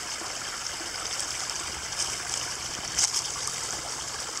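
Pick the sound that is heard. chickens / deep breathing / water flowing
water flowing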